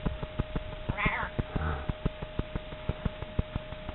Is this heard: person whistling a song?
no